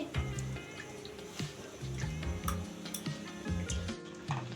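A utensil stirs packet milk in a cooking pan, giving light, irregular metallic clinks and taps against the pan, fairly close but soft, with no talking.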